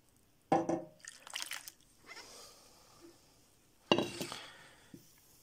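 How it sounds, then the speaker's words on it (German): Water splashes and trickles while minerals are rinsed after treatment with oxalic acid, in two close bursts of pouring with faint dripping and clinking between them. "Ich spüle das Ganze jetzt noch etwas ab."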